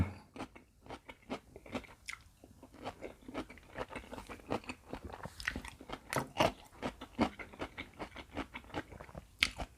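Crunchy bites and wet chewing of salmon dressed with a garlicky seafood dipping sauce, close to the mic, in a steady run of sharp crackly bursts with no talking.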